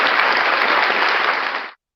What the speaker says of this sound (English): So this clap is for you guys, right?